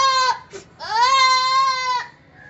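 A young goat about five months old bleats loudly and close, one short cry followed by a long wavering bleat, with no other sounds around it.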